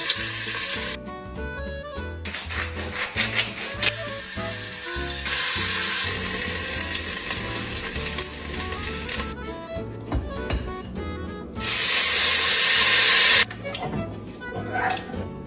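Bacon fat renders in a pot for bœuf bourguignon, frying with a loud, crackling sizzle that swells into several brighter bursts, with scraping and clinking as the contents are stirred.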